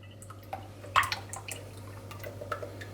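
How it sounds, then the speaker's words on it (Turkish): A 200 ml pack of cream is poured into milk in a wide mixing bowl, giving soft dripping and splashing with a couple of brighter drops, close and quiet over a low steady hum. "Karıştırmak için 200 milim yani bir paket krema ekliyorum"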